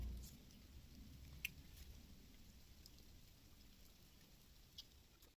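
Silkworms feeding on mulberry leaves in a village rearing shed produce a faint, steady crackling patter like light rain, continuous and soft with occasional tiny clicks.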